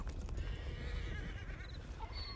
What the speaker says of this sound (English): Why do I hear so many horses?